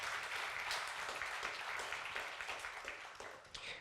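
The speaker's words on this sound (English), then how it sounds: "Yes, you can give applause." Applause from the audience for a panel at a media forum on disinformation, a steady wash of many hands clapping that holds for several seconds and tapers slightly at the end, fairly faint and distant.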